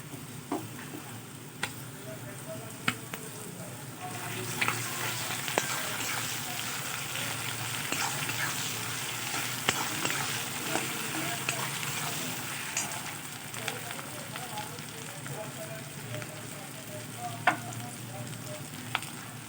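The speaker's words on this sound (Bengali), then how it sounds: "লাল লাল করে ভাজা হয়ে গেছে এর মধ্যে আমি এবার আদা কুচিটা দিয়ে দেবো" Chopped onion and ginger fry in oil for a banana-flower and chickpea dish, giving a steady close sizzle that swells after a few seconds, with scattered stirring clicks and faint speech in the background.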